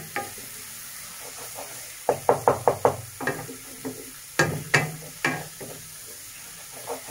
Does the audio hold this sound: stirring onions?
yes